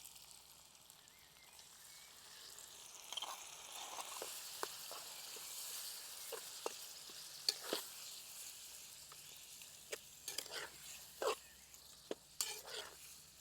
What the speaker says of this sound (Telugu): ఈ కొత్తిమీర పేస్ట్లో ఒక్క 10 నిమిషాలు బాగా ఏగనిద్దామన్నమాట.